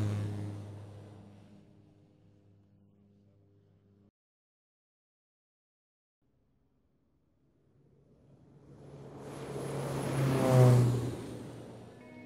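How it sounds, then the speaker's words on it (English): An Air Tractor 502XP agricultural plane at full throttle on the ground swells from a distant drone to a loud roaring pass, peaking close then fading, after an earlier pass dies away into silence. "Both aircraft were pushed to full throttle and passed our recording equipment while still on the ground."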